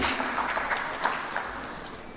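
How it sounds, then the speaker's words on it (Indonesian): An audience at a government forum applauds regents, with soft, diffuse clapping heard at a distance and fairly quiet throughout. "Tepuk tangan buat para bupati yang telah melakukan ini."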